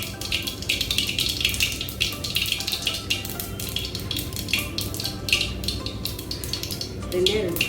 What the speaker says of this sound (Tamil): கடுகு நல்லா பொரிச்சு